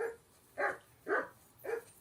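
Dog barking in Kingdom Come Deliverance II, four evenly spaced medium-pitched barks, moderately close and fairly faint, with no talking.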